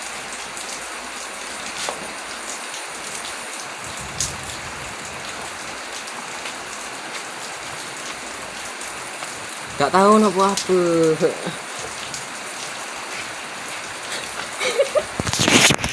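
Steady rain hisses throughout with scattered drops, a person speaks briefly in the middle, and more voices rise at the end.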